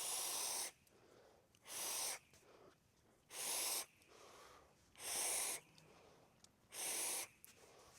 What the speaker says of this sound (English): Let's have a quick vape and I will talk you through it.